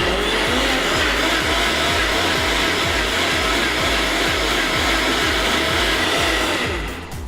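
A blender runs steadily at high speed blending a protein smoothie, a loud, continuous whirring roar with a rhythmic low churn that cuts off at the very end.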